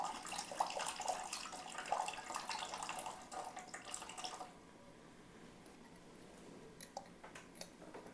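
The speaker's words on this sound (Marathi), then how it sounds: "तुम्ही याच्यामध्ये पाणी भरा." Water is poured into an oil lamp during a demonstration, a steady splashing trickle for about four seconds that then stops, leaving a quiet room with a few faint taps and drips.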